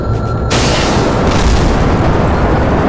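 Rocket engines fire in Kerbal Space Program: after a brief lead-in, a sudden loud roaring blast bursts in and keeps rumbling as a heavy, continuous booming wall of noise.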